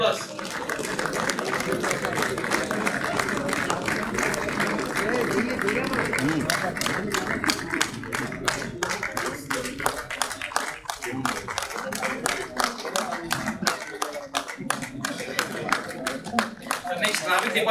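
Sustained audience applause at a safety day awards celebration, dense and steady clapping filling the whole stretch, thinning slightly toward the end with voices mixed in.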